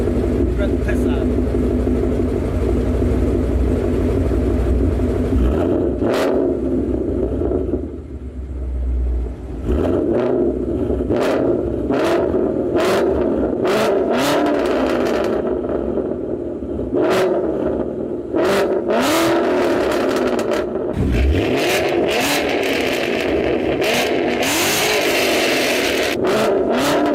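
A Ford Mustang engine revs up in steps through rising RPM, loud and close, with a deep rumble climbing to a strained roar, dropping back between pulls and ending in repeated sharp blips.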